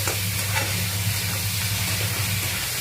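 Onion and potato frying in a pan, giving a steady close sizzle with light stirring scrapes throughout, no voices.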